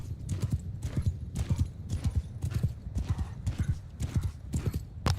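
A fast horse gallops in Mount and Blade 2, rapid rhythmic hoofbeats pounding steadily and close throughout, alone without talk.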